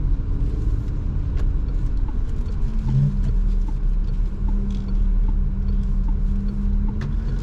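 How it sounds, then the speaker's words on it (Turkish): A steady, smooth hybrid engine hum in a 2024 Peugeot 3008 with a low rumble throughout, fairly quiet and even, with faint ticking in the background. "Aracın çalışırken şeyi sesi değişmiş sanki değil mi bu hibritle beraber? Biraz daha sessiz."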